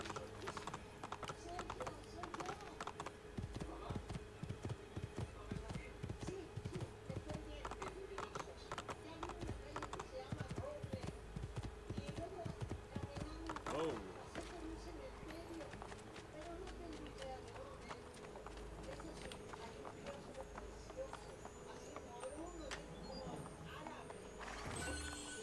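Horse hooves clip-clop steadily in Assassin's Creed 2, a rapid galloping rhythm with thuds in the foreground, and a voice talking over them for much of the time.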